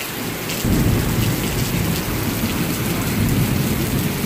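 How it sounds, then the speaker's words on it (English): Thunder rumbles through a heavy rainstorm, a deep rolling boom swelling in after a moment over steady, dense rain pattering on surfaces, loud and continuous with no speech. "That is thunder."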